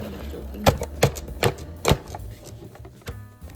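An onion is diced in a Chop Wizard chopper, four sharp, evenly spaced chopping clacks up close, then a softer thump and a last click against a faint background.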